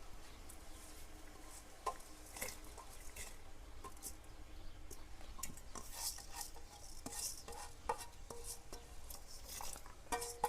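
Washed rice tipped into a pot of boiling water for Gujarati rice kheer: soft splashes and wet patter, a few scrapes and clinks against the pot, with a steady bubbling background and no talking.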